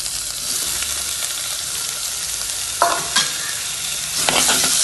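Onion, ginger, green chilli, garlic and curry leaves frying in coconut oil, a continuous bright sizzle broken by a few scraping stirs of a spoon against the pan, no voices.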